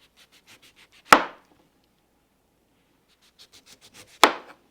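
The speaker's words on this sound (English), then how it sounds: "I'm gonna cut the navel orange down" A knife cuts down through a navel orange on a board, giving two sharp chopping thuds a few seconds apart, each preceded by soft scraping and rustling.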